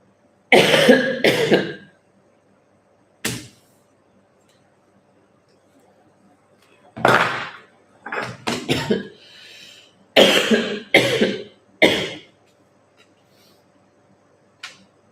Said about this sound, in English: So I'm coughing because of that.